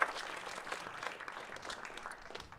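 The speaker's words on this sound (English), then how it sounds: "one more round of applause for Meta" Audience applause at a hackathon in Austin, Texas, steady and moderately distant, a dense wash of many hands clapping without speech.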